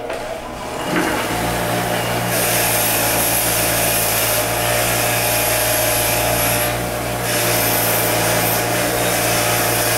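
Wire wheel on a power tool stripping excess paint from a diecast James Bond DB5 model car body, a loud continuous whirring grind that starts after a second and holds steady with slight dips as pressure changes.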